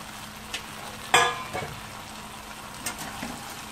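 Fried chicken pieces being stir-fried in a pan for dragon chicken: a soft background sizzle broken by a few sharp bursts and clinks as the pieces are tossed, close and brief, with no voices.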